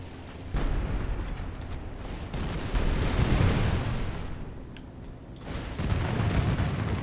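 Artillery fires during a battle in the video game Total War: Warhammer, sounding as muffled, rumbling booms over a steady low din. The level is moderate and swells in a few waves.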